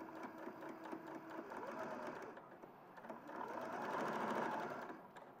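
A sewing machine stitches one straight line on fabric at a longer stitch length and normal tension, a steady whirring run lasting several seconds and growing slightly louder toward the end.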